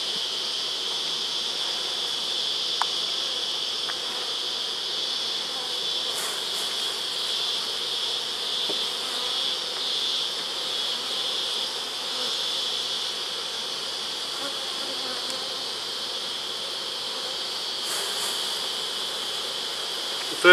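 A dense, steady buzz of many honey bees from a colony humming together, continuous and close, with no voices.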